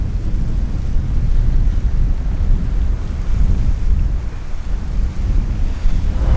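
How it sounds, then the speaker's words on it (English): Strong gusty wind roaring across the microphone on a Florida Keys shoreline, mixed with continuous crashing surf, loud and unbroken with no voices. "The wind is ripping today."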